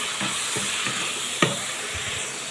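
Shrimp fry in hot oil with a little salt and turmeric in a home kitchen, a constant bright sizzle broken by scraping stirs and one sharp clack of a utensil against the pan.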